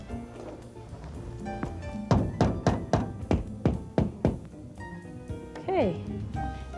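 A hammer drives nails into wooden half-round trim set on top of columns, about eight sharp, evenly spaced blows close by, with quieter handling thumps before and after.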